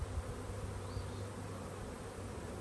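Honey bees buzz in a steady, dense drone, with a few individual bees passing close to the microphone.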